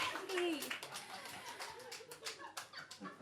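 A stand-up comedy club audience bursts into scattered clapping, a moderately loud patter of hands that thins and flutters out, with a few voices mixed in.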